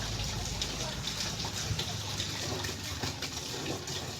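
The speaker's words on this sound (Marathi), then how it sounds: "मी तुमच्या समोरच पाणी काढलेलं आहे हे बोरवेलचं" Water gushing steadily from a revived borewell on a farm, a continuous close splashing rush heard under someone speaking throughout.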